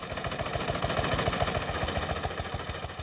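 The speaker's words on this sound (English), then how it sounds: "Its single-cylinder engine generated a lot of power, but it didn't make for a smooth ride." A single-cylinder engine on an early automobile chugs steadily close up, a rough, low, rapid pulsing with a rattling, vibrating texture and no break.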